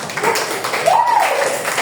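A small classroom group gives brief applause, a few pairs of hands clapping close by for under two seconds, with a voice faintly audible through the claps.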